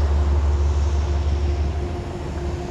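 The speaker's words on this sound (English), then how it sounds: "Now that train pulling in right now is another Metro North train." A Metro North express train rolls into the Croton-on-Hudson station, a steady, loud low rumble with a faint whine above it that holds level for the whole stretch, with no voices over it.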